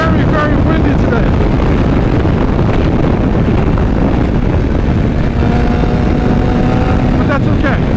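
Loud, constant wind buffeting close up while riding a BMW HP4 motorcycle, a heavy low roar that swamps everything, with a faint engine-like hum underneath.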